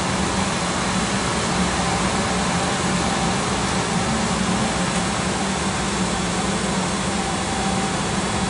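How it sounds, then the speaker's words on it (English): Combustion air fan on a Webster burner with TEMP A TRIM control winds down, a steady broadband whoosh and hum that fills the whole stretch at an even level without clear change or voices. "You can see the fan speed dropping off"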